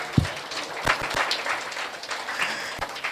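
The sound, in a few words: congregation clapping loudly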